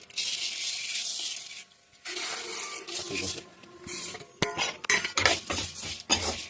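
Vermicelli roasting in a pan for semiya upma while a metal spoon stirs it, with steady scraping and clinking of utensil on pan that runs close and fairly loud, breaking into irregular scrapes and clinks toward the end.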